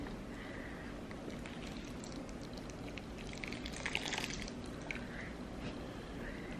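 Water drips and trickles from a freshly repotted, root-bound houseplant, a soft continuous wet patter with brief splashy bursts, heard alone without talk.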